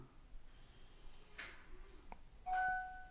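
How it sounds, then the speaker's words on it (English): Eufy Smart Lock Touch on a front door, unlocking: a soft whir of the motor and a couple of faint clicks, then a short, clear electronic chime near the end, heard close in a quiet room. "Unlocking. Hang on."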